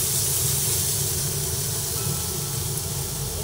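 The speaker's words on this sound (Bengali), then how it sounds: "ধনেপাতার এই পেস্টটা আর পেঁয়াজ একসঙ্গে ভেজে নিচ্ছি কড়াইতে দিয়ে" Coriander paste and onion fry together in a wok, giving a loud, steady sizzling hiss that holds unbroken from start to finish, with no voices over it.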